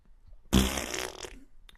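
Cartoon fart sound effect: one loud, wet, sputtering blast lasting under a second, standing alone with no talk over it.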